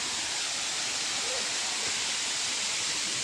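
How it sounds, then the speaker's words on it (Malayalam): Steady rushing hiss of a small waterfall at Paloor Kotta, an even wash of falling water filling the short stretch with no break. "ഇത് ഒരു ചെറിയ വെള്ളച്ചാട്ടമാണ്."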